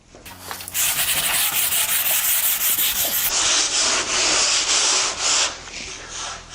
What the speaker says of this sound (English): that's all that's involved in this step for sanding with 80 grit